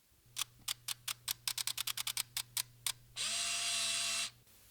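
A Fujifilm Rensha Cardia Byu-N 16 camera shutter clicks in a fast, irregular burst of about twenty crisp snaps over a faint hum, then a short whirring mechanical buzz.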